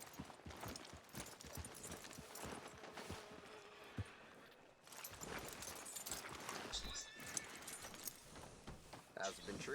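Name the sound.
horse hooves and neighing in video game Red Dead Redemption 2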